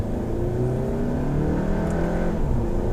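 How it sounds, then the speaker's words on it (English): A 2019 Volkswagen Arteon 2.0T SEL Premium R-Line accelerating hard in sport mode, its engine note rising steadily in pitch as it pulls through second gear, loud and continuous, heard from inside the cabin. "So now getting up to speed, we'll get it into second gear in sport mode just to see."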